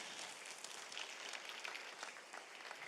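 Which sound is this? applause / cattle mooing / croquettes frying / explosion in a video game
applause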